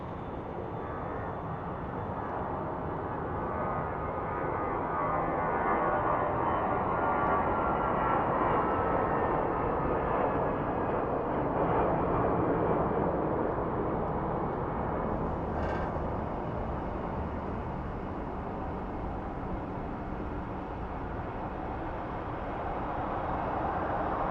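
A Piedmont heritage-livery airliner at Phoenix Sky Harbor airport at night gives a steady, loud, broadband engine roar that holds for the whole stretch, swelling slightly in the middle with no talk over it.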